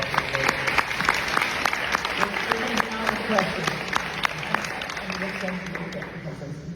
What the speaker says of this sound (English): can we please give one more round of applause for our panelists?